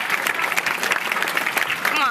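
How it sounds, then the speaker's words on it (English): A crowd claps steadily and fairly loudly, dense overlapping applause filling the whole stretch with voices mixed in. "Give yourselves one last round of applause."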